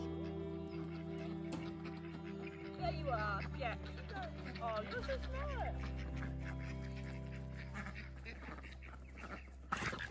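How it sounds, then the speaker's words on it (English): Ducks being let into an orchard paddock quack repeatedly near the microphone, mixed with honking calls, while someone talks softly to them over a steady low hum. "It's time to let the ducks into the orchard paddock"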